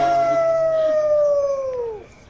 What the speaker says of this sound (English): the beast appears atop the highest peak in town and howls his